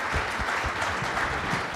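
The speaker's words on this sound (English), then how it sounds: "Let's give them a hand of applause" Audience applause for a peace-focused conference panel in Cape Town, a dense steady wash of many hands clapping at close range, continuous and even throughout with no voices over it.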